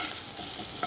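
Potatoes frying in a pan of hot oil while being stirred, a steady soft sizzle with a few light scraping touches, close and moderately quiet, no talk.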